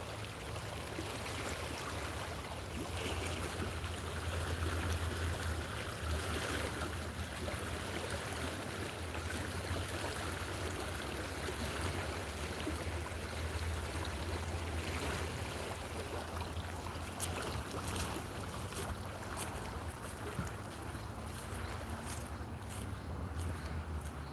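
Water in a forest stream flows and swirls around a corner, a continuous soft rushing and gurgling wash that holds steady throughout, fairly faint and unaccompanied by voices.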